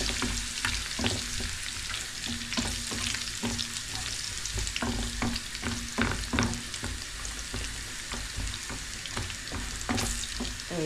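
Ginger and onion fry in hot oil for a spinach and lentil curry tempering, a steady close sizzle with frequent scraping and stirring clicks from a spatula, continuous and fairly loud with no voices.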